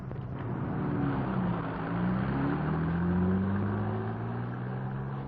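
A car engine hums steadily as the vehicle drives along a road in an old-time radio police drama, the low drone rising and falling gently, close and continuous with no talk.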